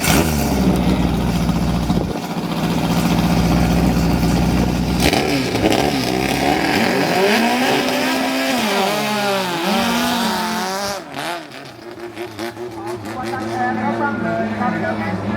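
A racing speedboat engine at a large-class speedboat race at Wat Kalong, Samut Prakan, roars loud and close, its revs climbing and wavering in sweeping rises and dips, with a commentator talking over it.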